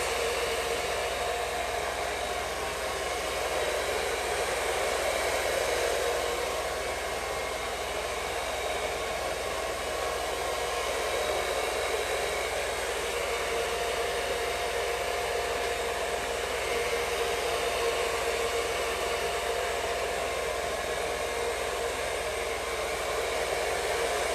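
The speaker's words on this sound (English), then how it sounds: "they're gonna dry your hair" A hair dryer blows continuously on hair after a men's haircut, a loud steady rushing roar that stays close and unchanged throughout with no talk.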